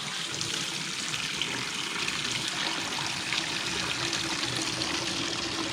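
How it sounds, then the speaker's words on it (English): Water is drained off a freshly boiled batch of sand fleas (mole crabs), giving a steady, close pour and trickle of liquid that runs continuously without talk. "now you're just going to drain the water off of them"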